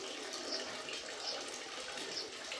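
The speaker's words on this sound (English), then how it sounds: "The most unique water spring that I've ever seen." Spring water runs steadily from a step well at the Tunga Maata Mandir temple, along a hiking route from Kullu to Parashar Lake. It makes a constant close-up rushing and splashing hiss with no voices.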